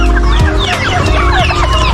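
A flock of turkeys clucks and calls close by, many overlapping voices chattering loudly and continuously.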